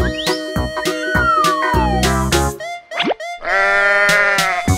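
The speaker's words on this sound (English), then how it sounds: "Sheep." A cartoon-style sheep bleats amid playful animated sound effects, with boings, plops and sliding tones scattered around a wavering, loud bleat near the end.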